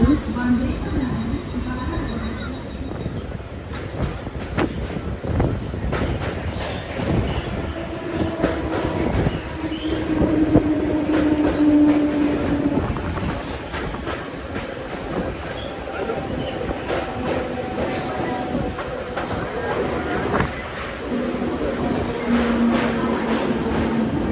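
Train rumbling along the rails, heard from an open carriage door, with steady rhythmic clatter and occasional high wheel squeals, a continuous loud ride-through noise with faint voices mixed in.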